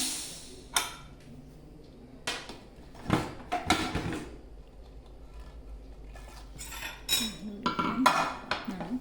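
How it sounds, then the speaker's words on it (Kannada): A cooled pressure cooker of dal is opened, its metal lid and cookware clattering in a series of sharp clinks and knocks, close by, with scraping between the louder hits. "ಕುಕ್ಕರ್ ತಣ್ಣಗಾಗಿದೆ ಓಪನ್ ಮಾಡೋಣ"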